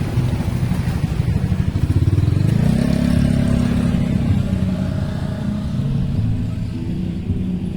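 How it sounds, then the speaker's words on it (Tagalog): Motorcycle engines rumble close by, one revving up loudly and pulling away while traffic drones steadily in the background. "Maraming sasakyan dito, guys, no? Maraming sasakyan. Puro motor."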